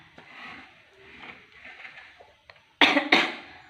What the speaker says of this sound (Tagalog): medyo inuubo na din ako eh